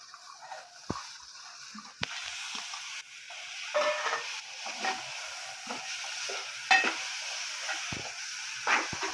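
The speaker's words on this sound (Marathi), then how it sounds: "आता हे मी सोललेले वाल घालत आहे।" Peeled field beans (val) are stirred and sautéed with spices and garam masala in a hot pan, giving a steady soft sizzle broken by scraping stirs and occasional sharper clicks.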